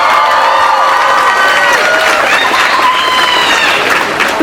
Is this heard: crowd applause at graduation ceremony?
yes